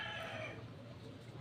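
Chickens clucking and a rooster crowing nearby, brief and fairly faint over a low background hum.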